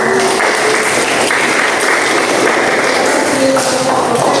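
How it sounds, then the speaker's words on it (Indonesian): A classroom audience applauds after a group presentation, with loud, continuous clapping throughout and a few brief tones under it. "tepuk tangan dulu buat"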